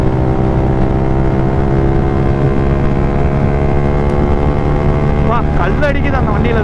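Modified Yamaha R15 V3 motorcycle pulling hard in fifth gear, a loud, steady engine drone with strong harmonics and rushing wind throughout, rising slightly in pitch near the end.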